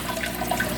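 An aquarium air pump bubbles water in a tank, a brief burst of soft, close gurgling and popping over a steady watery hiss.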